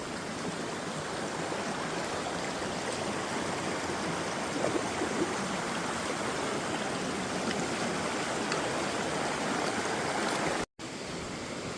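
Stream water rushes steadily at a creek crossing on a hiking trail, a close, loud, unbroken wash of flowing water with no talk.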